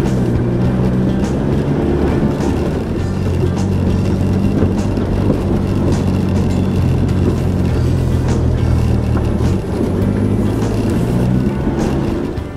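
A 4WD vehicle climbs a steep bush track, its engine droning loud and close under load with steady rumble and a brief dip as the revs change.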